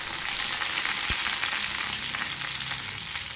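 Mustard seeds, dried red chillies and curry leaves fry in hot oil while tempering a Kerala-style tomato curry, a steady close crackling sizzle with one brief low knock partway through.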